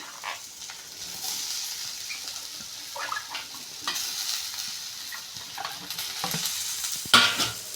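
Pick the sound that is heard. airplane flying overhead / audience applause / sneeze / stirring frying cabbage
stirring frying cabbage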